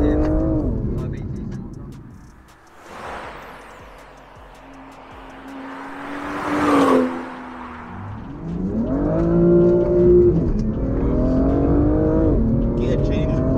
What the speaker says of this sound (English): Gear change is violent.